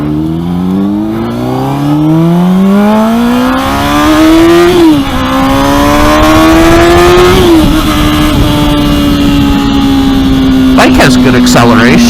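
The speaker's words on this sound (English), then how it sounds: "Bike has good acceleration." Honda CBR 600RR motorcycle fitted with a Two Brothers exhaust and power commander accelerating hard, engine note climbing loudly through shifts with a steady rising whine, close to the rider and continuous throughout.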